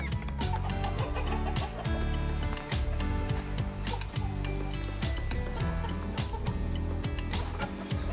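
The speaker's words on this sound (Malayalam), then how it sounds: "അപ്പോൾ വീട്ടിൽ വളർത്തിയിട്ടുള്ള കോഴിക്കുഞ്ഞുങ്ങളാണ്." Home-raised Karinkozhi (black chicken) chicks cluck and peep in a dense, continuous chorus that stays loud and close for the whole stretch, with no voices over it.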